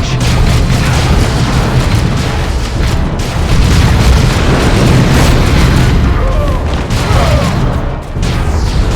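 Grenade blast amid a Warhammer 40,000: Chaos Rising battle, a loud, continuous roar of explosions and gunfire running throughout with no clear break.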